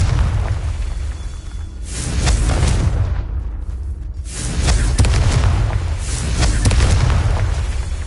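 Confringo fire spell explosions from the Hogwarts Legacy video game, a string of heavy booming blasts with rumbling low end, bursting roughly every one to three seconds and staying loud throughout.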